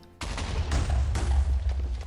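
Explosions in the video game Minecraft break out suddenly as a loud, close burst, followed by several more booming blasts that roll into one another without a break.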